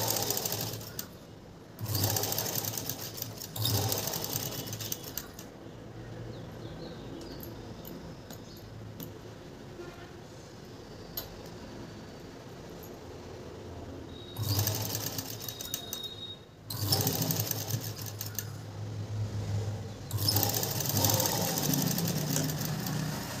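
Sewing machine stitching a blouse lining, running in several steady bursts separated by quieter stretches of faint room noise, close and with no speech.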